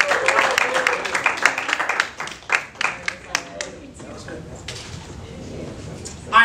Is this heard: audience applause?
yes